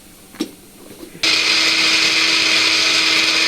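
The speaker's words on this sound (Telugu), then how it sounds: "ఇప్పుడు దీంట్లోనే అల్లము, తెల్లగడ్డ వేసి మొత్తము ఒకటి మిక్సీకి మొత్తం పట్టాలి" An electric mixer grinder whirs into loud, steady grinding of ginger, garlic and coriander seeds for a drumstick curry, starting abruptly after a few quiet knocks and running continuously to the end.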